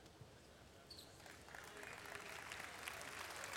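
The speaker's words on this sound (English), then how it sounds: "And gets a little round of applause here." A basketball arena crowd at a professional game gives a modest round of applause, a soft wash of distant clapping that swells slightly, with commentators talking over it.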